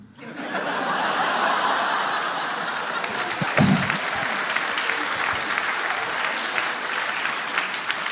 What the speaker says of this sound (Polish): Bolesne brawa, nie będę ukrywał